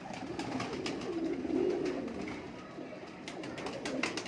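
A pigeon coos in low, rolling throaty notes, soft and close, repeating in a gentle swell over quiet background rustle.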